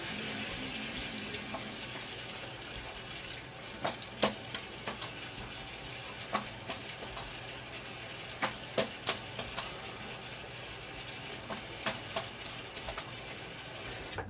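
Tap water runs steadily into a sink during a face rinse after a shave, a continuous close hiss broken by small irregular splashes as hands scoop and slap water.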